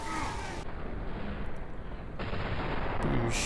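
Sniper rifle shots from a video game fire in a dense, continuous barrage, loud and close, with the sharp reports blurring into each other throughout.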